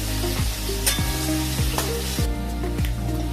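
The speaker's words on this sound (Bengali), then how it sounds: "আলু ভাজা প্রায় কমপ্লিট" Potatoes fry in a pan, producing a loud, steady, close sizzle with a tonal hum underneath that repeatedly dips in pitch.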